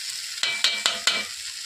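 Pitted dates and diced mango leather are stirred into tomato chutney in a pan, with four sharp scraping strokes spaced evenly over a soft sizzle.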